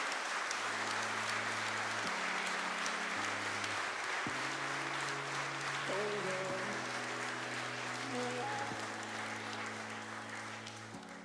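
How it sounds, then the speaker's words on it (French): A large audience at an anniversary event gives sustained, warm applause that fills the room, steady and loud throughout, while sustained musical tones play underneath and the clapping fades slightly toward the end. "Je vous remercie de les applaudir très chaleureusement."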